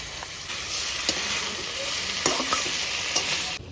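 Vegetables for Bengali sukto fry in a pan, a steady close sizzle broken by several sharp scraping stirs and clinks of a spoon against the pan, with no voices.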